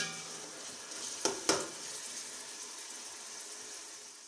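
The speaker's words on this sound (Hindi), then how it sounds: "इसको मीडियम फ्लेम पर मैं गोल्डन ब्राउन करूँगी।" Onions frying in oil over a medium flame until golden brown, a steady close sizzle throughout with a couple of sharp stirring clatters early on.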